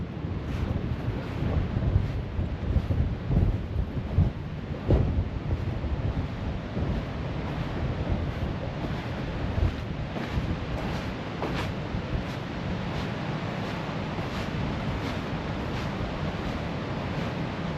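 Steady wind buffets the microphone on the beach at Thornwick Bay on the East Yorkshire coast, a constant roaring rush with gusty bumps and faint surf beneath, with no one speaking.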